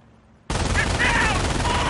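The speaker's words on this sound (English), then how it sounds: "he just runs right into MG fire" Machine gun fire in a real-time strategy game erupts suddenly after a quiet moment, a dense, continuous burst of rapid shots filling the rest of the clip at steady loudness.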